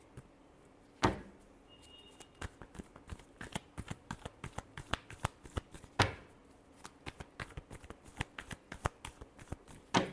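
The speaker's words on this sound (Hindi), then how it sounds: "last shuffle," Tarot cards are shuffled by hand in quick, crisp riffles and taps, faint and close, with a few sharper slaps standing out and no talking.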